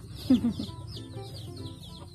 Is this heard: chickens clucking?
yes